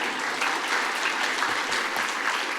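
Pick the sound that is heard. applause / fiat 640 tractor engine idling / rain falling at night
applause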